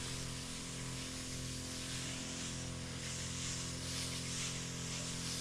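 A sprayer applies Bayer Decis 250 insecticide to the undersides of crop leaves, giving a continuous even hiss over a steady mechanical hum that never breaks.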